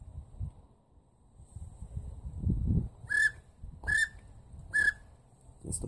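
A Ward Whistle duck call by Steelbird Calls sounds three short, high whistled notes imitating a wigeon, each with a slight rise, over low background rumble.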